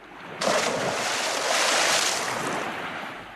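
Ocean waves washing into a lagoon, a steady broad rush of surf that swells in loudly after a brief quiet start and holds with wind-like hiss, no voices.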